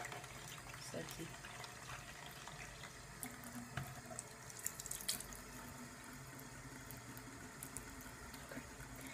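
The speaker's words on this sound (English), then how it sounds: "And run the hot or warm water right over it so that it's nice and sudsy." Warm tap water runs steadily into a shampoo bowl over makeup brushes, a close, soft continuous splashing with small clicks and handling noises.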